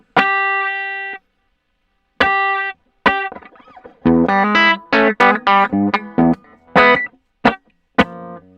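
An electric guitar played through a Steel String Supreme amp simulator with only minimal reverb gives a long sustained note, then a run of short, crisp picked notes and chords with quick dry decays and brief silences between.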